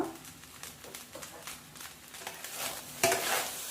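A spatula stirs gongura chicken fried rice in a pan with coriander sprinkled on top, making close, rhythmic scraping and tossing strokes over a soft sizzle, with one sharper clatter near the end.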